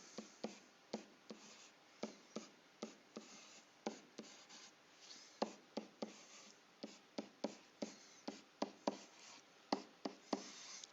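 Pen strokes drawing numbers on a number line on paper, a quiet series of short, regular scratchy taps and scribbles in an otherwise silent room.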